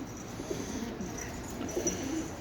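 Soft, low pigeon coos in a coop, steady and faint against a constant background hiss, with no voices.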